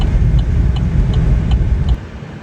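A farm tractor's engine running steadily nearby, a loud continuous low rumble with a faint regular ticking, dropping in level near the end, no talk.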